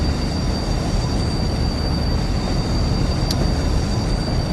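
A BR Class 45 diesel locomotive train gives off a steady, loud rumble and rail roar that holds an even level throughout, with no voices.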